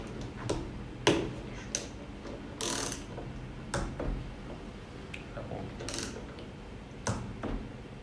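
An MWR PF6000 torque wrench tightening a bolt, giving scattered metallic clicks, ratcheting and clinks spread irregularly, close and moderately loud in a quiet room.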